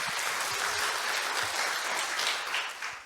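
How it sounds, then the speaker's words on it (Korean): Steady applause from a symposium audience fills the room, dense and even, tapering off slightly at the end. "큰 박수 부탁드리겠습니다."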